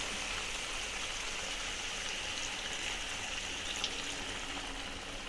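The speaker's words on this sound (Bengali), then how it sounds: "জল দিয়ে দেবো।" Water pours into a pan of bottle gourd and fish head curry, a steady rushing splash that holds evenly throughout, close and without any voices.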